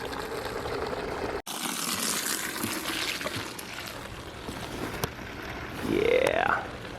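Water from a hose running into a car wash bucket, a continuous close hissing splash that rises in pitch toward the end as the bucket fills.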